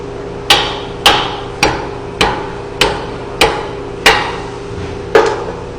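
Nine sharp, evenly spaced hammer blows ring out on welded steel studs, each strike loud and close with a short metallic decay, testing Tru Weld stud welds in a shop with no talking.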